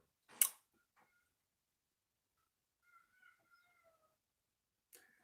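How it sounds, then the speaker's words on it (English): A kitten that is now grown lets out a short, fairly loud meow near the start, followed by faint, scattered chirps and small sounds, with another brief cry at the end in a quiet room. "I think she's meowing."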